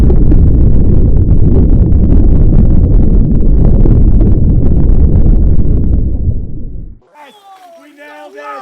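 A high-pressure water jet blasts at an Apple Watch with a loud, dense roar that runs for several seconds, then cuts off sharply into excited shouting voices.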